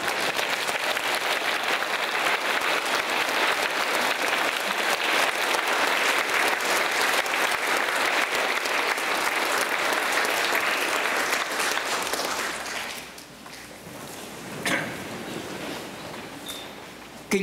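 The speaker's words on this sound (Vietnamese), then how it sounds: "Xin mọi người đứng lên vỗ tay chúc mừng xuân mới cha Chánh xứ ạ." A standing church congregation at a New Year Mass applauds the parish priest, dense sustained clapping for about twelve seconds that then thins out to scattered claps and quiet room noise.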